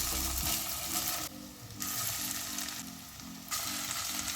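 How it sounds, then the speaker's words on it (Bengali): A batch of egg, potato and fish fries in hot oil over a gas flame, giving a loud, steady sizzle that dips briefly twice before swelling back, with no voices. "সেম একই পদ্ধতিতেও কিন্তু আমি ভেজে নেব পরের ব্যাচগুলোকে"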